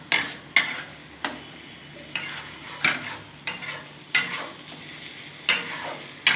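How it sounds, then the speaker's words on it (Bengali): Potol ghonto, a vegetarian pointed-gourd dish, being stirred in a pan after sugar goes in: a spoon scrapes and clinks against the pan in a steady rhythm of strokes, close and fairly loud, over a soft background sizzle. "এখন নেড়ে দেবো চিনি দেওয়ার পর।"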